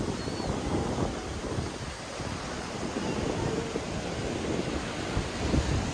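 Ocean waves wash onto the sand at Southport Beach, a continuous loud rush of surf mixed with gusty wind buffeting the microphone.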